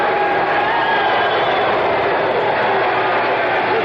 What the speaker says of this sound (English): The crowd doesn't like this